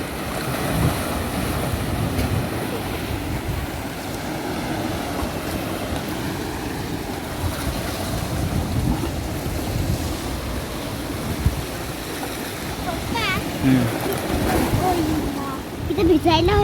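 Sea waves crash steadily against rocky shore at Redi beach near the Ganesh temple, a loud continuous roar of surf and spray with wind noise, and a few voices emerge faintly near the end.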